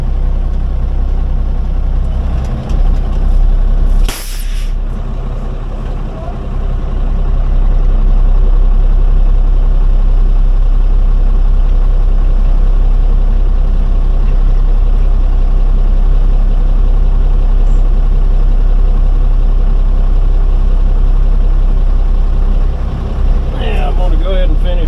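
A winch truck's engine runs steadily throughout at close range, a loud continuous low rumble with a brief louder burst early on and a faint rattle near the end.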